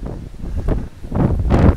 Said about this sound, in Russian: Хотел вам снять небольшую зарисовочку про штормовой, наверное, ветер в Калифорнии.